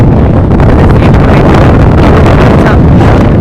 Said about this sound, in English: Once again, very windy.